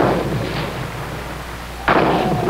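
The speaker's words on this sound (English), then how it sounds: "The Union suffered even heavier losses as Lee's artillery and infantry opened up against the Union front." Civil War battle fire from artillery and infantry, a steady rumbling barrage of booms and shots with a sharp louder burst near the end, dense and continuous without talk.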